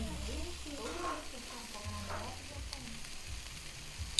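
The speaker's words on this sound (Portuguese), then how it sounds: "o bacon tá começando a dar uma fritadinha, né? Tá começando a suar" Bacon starting to fry in a pan for arroz carreteiro, a soft continuous sizzle with faint stirring scrapes, close but fairly quiet, with a low voice murmuring faintly underneath.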